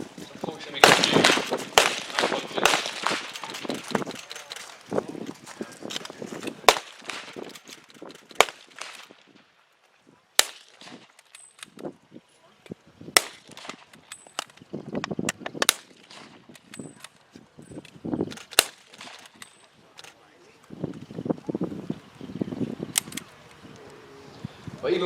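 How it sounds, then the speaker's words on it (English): Lee-Enfield rifles in a Second World War firepower demonstration at Tankfest 2022, loud cracking shots in irregular bursts with bolt clatter between volleys, some distance off, and people talking at times. "you can see the firepower the Enfield can bring out at the rapid"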